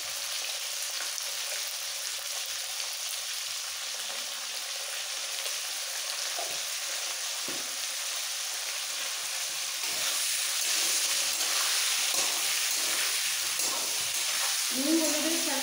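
Potato and cauliflower pieces fry in hot oil with salt and turmeric, a steady close sizzle and hiss throughout that grows slightly louder partway through, with occasional faint stirring.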